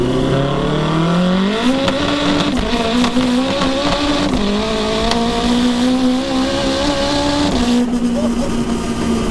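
A 922hp all-wheel-drive Honda DC5 accelerates hard through the gears, its engine loud and close with rising revs broken by quick shift drops and a steady roar, while people talk over it.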